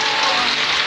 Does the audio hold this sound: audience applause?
no